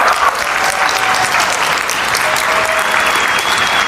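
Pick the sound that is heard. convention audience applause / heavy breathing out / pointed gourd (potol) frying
convention audience applause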